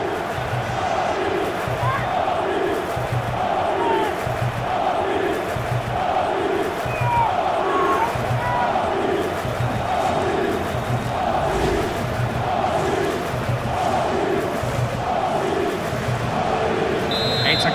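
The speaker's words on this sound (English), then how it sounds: "Just listen to the crowd." Simulated stadium crowd in FIFA 16 after Switzerland scores against Albania at Euro 2016: a loud, steady roar with rhythmic chanting pulses, under commentary.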